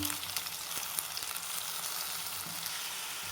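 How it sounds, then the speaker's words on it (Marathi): Bitter gourd pieces sizzle steadily in a pan with onions already fried golden, a dense continuous hiss with occasional small stirring clicks and no voices. "आता मी कारले टाकून घेते आणि याला पण परतून घेते छान"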